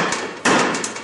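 Hammer tapping a brake panel off the rear axle of a Honda TRX300FW ATV in a shop: two close metallic knocks, a light tap followed by a louder, sharper strike.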